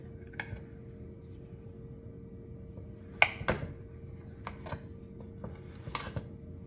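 A knife slices through a piece of banana cake with cream cheese frosting, giving a few faint, sharp clicks and scrapes against the plate in an otherwise quiet kitchen.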